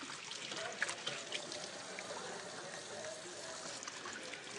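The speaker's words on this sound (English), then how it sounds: "I gotta wash up" Faint, steady running water from a kitchen tap while hands are washed during cooking, a soft continuous trickle and splash with slight irregular bumps.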